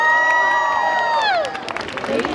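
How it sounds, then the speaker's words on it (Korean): Audience at a musical concert encore cheers and applauds to welcome a female rapper, a loud crowd roar with shouts carrying over steady clapping, fading toward scattered claps and calls near the end. "박수 부탁드리겠습니다"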